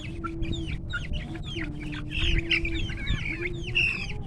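A chicken, one that earlier had an eye problem, clucks repeatedly in short, close bursts over a low steady hum.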